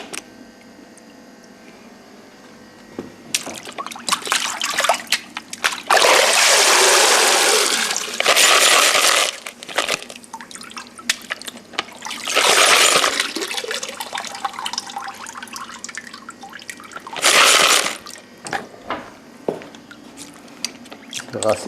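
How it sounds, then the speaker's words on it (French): Metal parts being rinsed with water after a hydrochloric acid bath, ahead of barrel zinc electroplating. Loud bursts of running, splashing water come and go several times, with quieter gaps between them. "On va les rincer bien."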